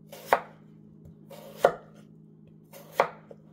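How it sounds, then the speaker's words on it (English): A knife dicing potatoes into bite-sized pieces on a cutting board, three sharp evenly spaced chops about a second and a half apart, close and clear with no talk. "I just give it another dice, okay? And then I just kinda do little bite-sized."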